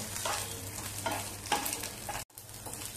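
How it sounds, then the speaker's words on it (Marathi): Masala with garlic roasting in oil in a pan for methi matar malai, a soft steady sizzle with faint stirring scrapes, heard alone and fairly quiet. "लसूण सुद्धा घालूया आणि चांगला मसाला भाजून घेऊया. हे बघा, मिनिटभर चांगला तेलावरती भाजून घ्यायचा आहे."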